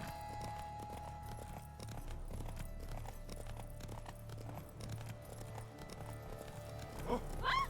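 Horse hooves clip-clopping at a quick pace in The Witcher 3 video game, faint and steady under game ambience, with a brief voice near the end.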